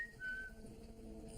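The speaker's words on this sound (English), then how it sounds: "the whistling sound that many of us had heard would for now remain without an explanation" A thin, faint whistling tone drifts through a quiet room in Samlesbury Hall, one brief steady note that slides slightly before fading into low background hum.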